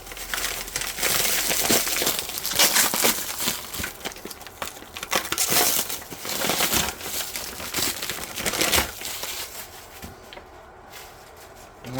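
Crinkling, crumpling plastic packaging being cut open from a spool of Bambu Lab PLA filament, close and fairly loud, with bursts of rustling and tearing over about ten seconds before tapering off; no talking.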